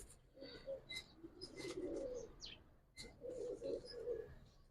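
Giribaz pigeons on a rooftop loft give repeated throaty coos in two clusters split by a short pause, joined by sharp high chirps from other birds nearby, faint overall and free of speech.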